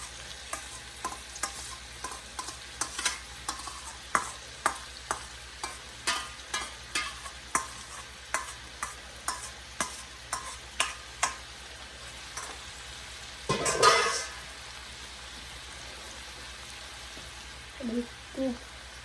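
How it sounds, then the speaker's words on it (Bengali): A spoon stirs chopped cauliflower, carrot and egg in a frying pan, with a faint sizzle underneath and a steady run of sharp scraping taps roughly every half second, a louder scrape near the end. "এখানে আমি কতগুলো সবজি ফুলকপি গাজর আর আপনার ডিম ছিল ভোজন সেটা এখন এটার সাথে দিয়ে একটু নাড়াচাড়া করে নেব আমি"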